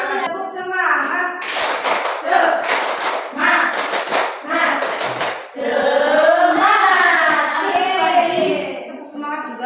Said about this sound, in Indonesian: semangatnya kita juga menggunakan tepuk semangat.